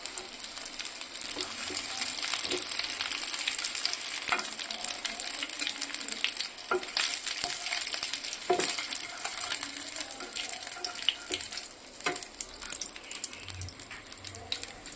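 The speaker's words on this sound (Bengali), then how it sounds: "এই 3টে মাছও খুব ভালো মতো করে ভাজা হয়ে গিয়েছে" Pomfret fish pieces frying in hot oil in a pan, a steady, close crackling sizzle with occasional sharper pops and spatula clinks throughout.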